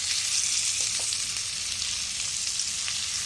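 Rawa-coated halibut pieces shallow-fry in oil, giving a dense, even hiss and crackle that stays loud and close throughout, with no voices.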